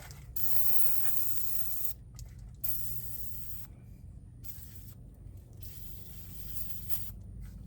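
PB Blaster penetrating oil hisses out of an aerosol can in several short bursts with brief pauses between them, sprayed during front axle shaft work on a Dodge Ram with an AAM 9.25 axle.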